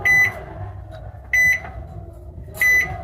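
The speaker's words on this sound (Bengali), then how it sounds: "মাইক্রোওয়েভে গরম হচ্ছে" A microwave oven reheating food gives three sharp electronic beeps spaced about a second and a quarter apart, each a short steady tone over a low hum of appliance noise.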